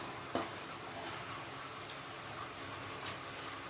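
A spoon stirs jaggery into mango pickle in a pan, quiet scraping and soft sizzling with a sharp clink of utensil against metal near the start, close and faint.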